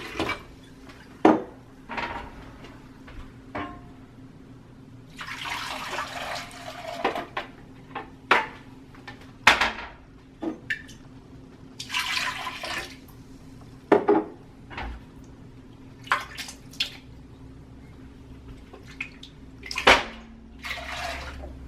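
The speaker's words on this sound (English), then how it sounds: "So I'm going to use that other water to do a rinse." Water sloshes over green coffee beans being rinsed in a pot, with scattered clanks and knocks of metal and bursts of splashing and pouring between quieter moments.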